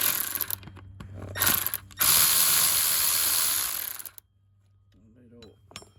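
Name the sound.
ratchet loosening a 10 millimeter bolt on Toyota engine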